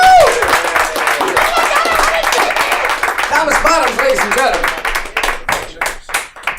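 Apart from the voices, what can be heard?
comedy club audience applause for a comedian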